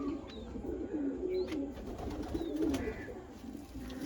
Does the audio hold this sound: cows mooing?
no